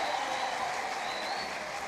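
Audience applause at a church gathering greeting Bishop Ben Kiengei and his wife. An even, sustained wash of many hands clapping sounds slightly distant and holds steady, then a sharp thump comes right at the end.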